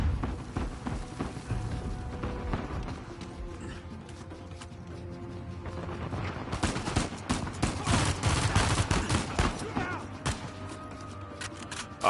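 Rapid gunfire from shooting enemies in Uncharted 4 on Crushing difficulty, dense bursts of automatic shots and sharp reports, loudest in the second half, with faint game sounds between volleys.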